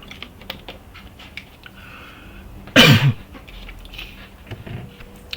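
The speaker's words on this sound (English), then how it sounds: "Sorry, I'm having a cough tonight." A single loud, close cough bursts out midway, with the rapid clatter of computer keyboard typing continuing faintly before and after.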